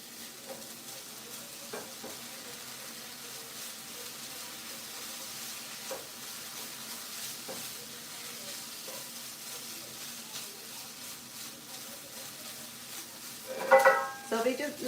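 Sugar sautéing and melting in a pan for a Khmer coconut dessert, a low, steady sizzle with occasional stirring scrapes and a louder clatter near the end, with no talk over it.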